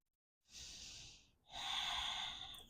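Two long, slow breaths during a hip and quad stretch, a soft airy inhale followed after a brief pause by a fuller, louder exhale, close to the microphone.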